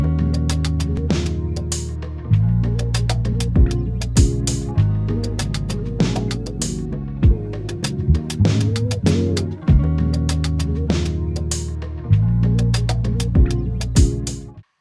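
A full produced beat built from a looped guitar sample and percussion samples plays at normal volume, with steady rhythmic hits, a bass line and plucked guitar tones repeating in bars, and no voices.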